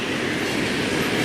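A BNSF freight train rolls past at close range in Springfield, Missouri, a loud, steady broadband roar of rail wheels and cars that continues without break and carries no talk.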